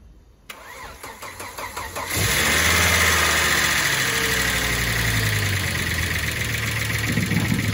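A Volvo 850 T5 with 462,000 miles cranks briefly and catches, then settles into a loud, steady idle close by.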